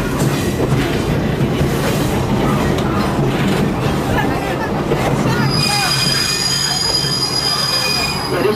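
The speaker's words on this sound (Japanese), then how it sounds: "列車はまもなく南島原駅伊勢へのための停車でございます。" A Shimabara Railway trolley sightseeing train braking as it approaches a station, loud rumbling wheels giving way to high, sustained metallic brake squeal, with an announcer talking over the train noise.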